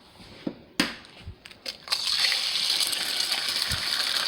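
An egg is cracked against the rim of a hot, lightly smoking frying pan greased with virgin or canola oil. A few sharp taps and cracks come first, then a loud steady sizzle takes over and continues, close-up.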